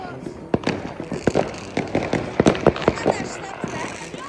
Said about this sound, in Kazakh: Жақтарда салюттан енді жарыс басталды.